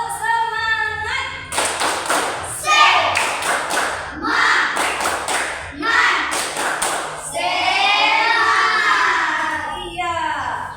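Children perform a rhythmic spirit clap in a classroom, sharp hand claps in quick patterned groups of several beats separated by short pauses, with young voices chanting along between and over the claps.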